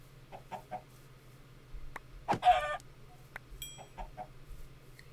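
Minecraft chickens clucking in short scattered bursts, with one louder squawk in the middle, over a quiet steady game background.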